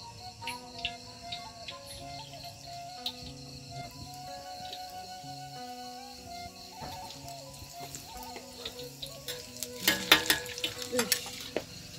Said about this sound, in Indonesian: Nah, Baraya ya minyaknya udah panas. Tinggal kita goreng.